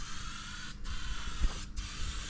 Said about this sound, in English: It's like he knows how to use a spray can.